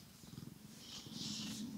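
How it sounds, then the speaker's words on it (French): A cat purrs softly up close, a low, even rumbling with a faint rhythmic pulse, quiet and alone. "Oh, le ronron. Un petit ronron."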